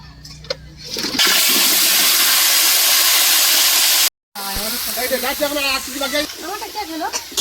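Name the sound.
potatoes frying in a wok on a large stove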